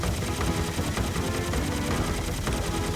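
A helicopter enemy in the Serious Sam 2 video game, heard as a dense, rapid mechanical rotor chatter that stays loud and steady throughout the short burst, with no voices over it.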